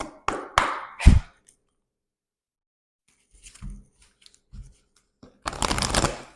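Tarot cards handled and drawn from a deck, a few quick sharp card snaps and taps at the start, soft scattered rustles after a pause, then a brief burst of shuffling at the end.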